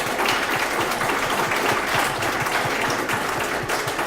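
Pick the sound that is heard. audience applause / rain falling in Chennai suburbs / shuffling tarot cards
audience applause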